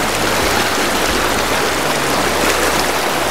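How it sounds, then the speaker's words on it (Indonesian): A cold mountain river below the Kedung Kayang waterfall on the slopes of Merbabu rushes steadily, a loud, close, unbroken wash of flowing water heard from mid-stream. "seperti ini suasana berdiri di tengah-tengah sungai"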